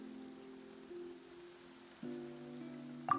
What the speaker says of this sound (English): Rain. It's raining.